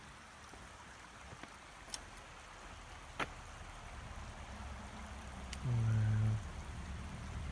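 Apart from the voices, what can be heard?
flowing water in a cave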